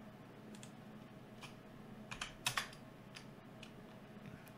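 Typing on a computer keyboard while entering a short chat message in an offline Minecraft Java server, a handful of close, quiet key clicks in a small burst over a soft room hum.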